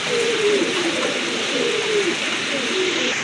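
Pigeons coo in soft, repeated throaty phrases, one after another, close by over a constant background hiss.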